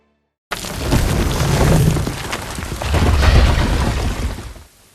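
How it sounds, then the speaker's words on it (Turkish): Loud, rolling thunder rumbles heavily, swelling twice over several seconds before fading out, with lightning and rain starting near caves in Isparta. "arkamda gördüğünüz gibi şimşek ve yağmur"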